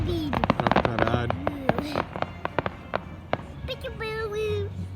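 A fireworks show finale at Rouses Point in 2026 sends a rapid string of sharp bangs and crackles. Crowd voices and whistles carry over the bursts throughout.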